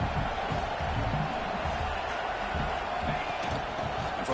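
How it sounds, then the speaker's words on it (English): Simulated stadium crowd in College Football 26, a steady roar building behind the defense in the red zone, loud and continuous with a commentator's voice running over it. "And the crowd coming to life here, trying to help this defense down in the red zone."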